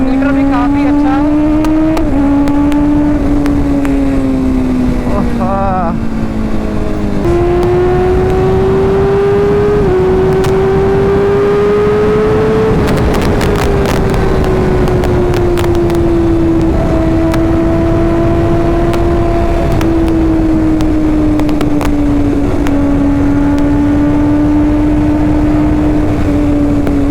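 A 2024 Kawasaki Ninja ZX-6R engine runs close and loud, its droning note climbing and dropping with throttle changes and gear shifts, held steadily through the whole stretch.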